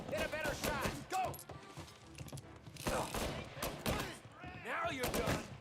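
Gunfire bursts in Mafia: Definitive Edition on PS5, rapid cracks and a fusillade-like volley mixed with shouting voices throughout, loud and close amid the chaos of a firefight.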